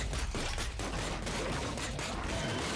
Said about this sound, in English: I'm just gonna shoot you once